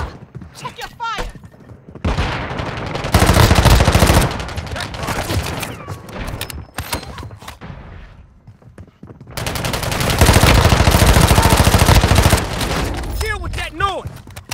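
Long sustained bursts of rapid machine gun fire, loud and dense, fill a Warzone Mobile match on Android, with quieter gaps between volleys and voiced game chatter underneath.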